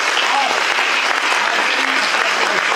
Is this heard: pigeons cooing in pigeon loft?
no